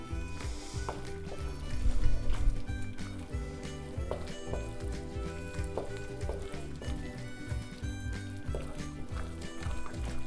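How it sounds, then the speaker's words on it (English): Basil risotto with butter and Parmesan stirred in a pot: a continuous soft bubbling sizzle with a spoon scraping and churning through the thick rice, alone and close, with a steady music bed. "Give that a stir."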